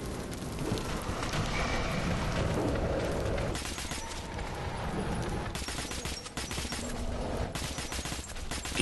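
Gunfire in the post-apocalyptic shooter Metro: Last Light, a dense run of loud, rapid gunshots and clattering bursts continuing throughout amid rough, noisy game ambience, with no talking.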